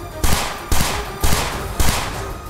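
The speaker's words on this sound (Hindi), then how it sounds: "वहां उन्होंने पहले गोलियां बरसाई।" Four loud bursts of gunfire from Hezbollah fighters at a deserted training site, each burst a short rapid volley, evenly spaced and close.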